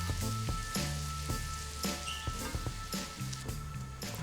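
Chopped celery with langoustine and lobster heads sauté in a hot pan, giving a steady close-up sizzle broken by regular scraping and stirring knocks, with no talk.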